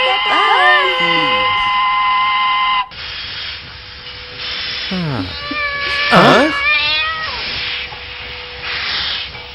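A cat gives a few drawn-out, wavering meows, loud and close, one after another, between stretches of a background hiss, with voices heard at times.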